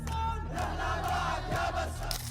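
A large crowd outside chanting a man's name in unison, a loud, dense mass of voices with a rhythmic, rallying swell throughout.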